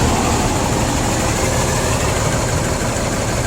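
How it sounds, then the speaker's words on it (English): A diesel engine idling at a campsite, a loud, steady low rumble up close that holds even throughout with no other sounds over it. "Listen to that beautiful diesel."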